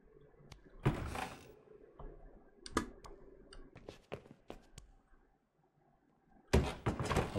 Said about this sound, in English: I'm trying to distract them with the door.